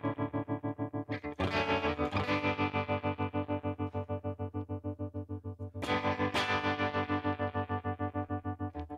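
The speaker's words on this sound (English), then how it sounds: "so there's the tremolo" Guitar played through the tremolo effect of a Neural DSP Tone King Imperial amp plugin, sustained chords pulsing steadily in smooth, even volume swells, with a fresh strum near the start and another partway through.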